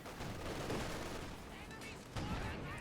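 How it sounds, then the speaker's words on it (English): Anti-tank gun shots in Company of Heroes 2, sounding as a dense rumble of gunfire and battle noise with a heavier burst near the end, all under continuous commentary. "And the AT gun misses."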